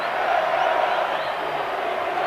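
Home crowd at a 1987 Argentina versus Australia rugby test match in Argentina, a steady loud roar of cheering and voices filling the stadium throughout, with no clear peaks.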